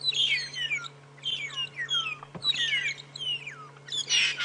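A flock of birds on a safari drive gives repeated squawking, chattering calls while Burchell's starlings attack them, loud and close, with overlapping bursts and no talk.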